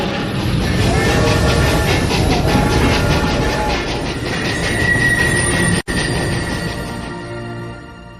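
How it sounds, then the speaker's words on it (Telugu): A train pulling away and running on the rails, a loud, close, continuous rumble with rhythmic clacking and a sustained high squeal or whine, easing slightly toward the end. "ట్రైన్ బయలుదేరుతోంది."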